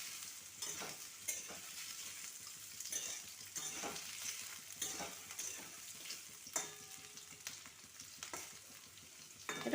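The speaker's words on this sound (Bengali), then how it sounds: "এটা তেলের মধ্যে একটু ভালো করে ভেজে নেব" Radish and carrot pieces fry in oil for a pickle, giving a soft continuous sizzle broken by repeated scraping stirs in the pan, with no talking.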